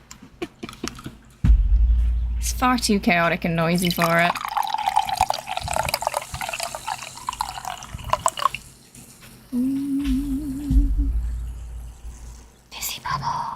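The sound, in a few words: Red Bull can opening and fizzing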